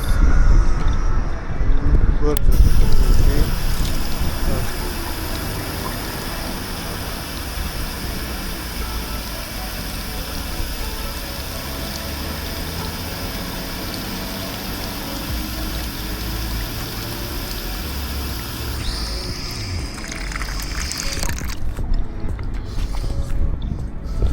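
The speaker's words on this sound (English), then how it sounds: "I found a water filling station, so I should be pressing this." A public water filling station dispenses water in a steady rushing flow with dripping and splashing, louder at the start and easing toward the end, while someone talks nearby.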